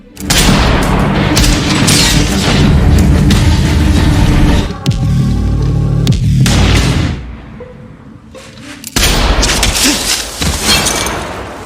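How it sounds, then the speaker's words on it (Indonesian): Heavy gunfire in a Korean film about a defecting soldier blasts out spotlights one by one, with loud booming shots, crashing and shattering glass in dense bursts, then a brief lull before another barrage. "Setelah itu ia menembaki satu persatu lampu sorot"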